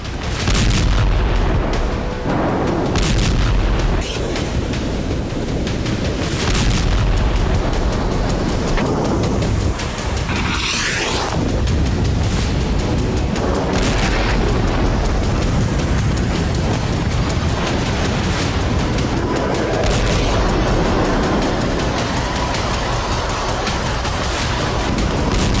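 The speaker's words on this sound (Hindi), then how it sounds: "ये बेरूत पर इजरायली एयर स्ट्राइक की तस्वीरें हैं।" Israeli air strikes hit residential Beirut: heavy, rumbling explosions and deep booms roll one after another in a loud, chaotic wash, with sharper blasts breaking through the constant roar.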